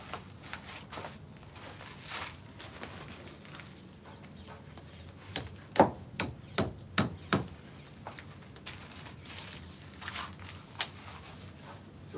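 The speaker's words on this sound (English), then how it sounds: "So now I got the hammer. I use the hammer to assist us." Hammer blows ring out while a tent is set up outdoors, a cluster of five or six sharp, evenly spaced strikes at close range, with scattered lighter knocks before and after and no talking.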